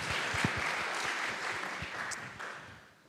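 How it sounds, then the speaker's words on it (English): An audience at a university student enterprise showcase claps in a dense, steady patter of applause, fairly faint and fading toward the end, with a few louder individual claps near the start. "please, round of applause for the lovely Diana"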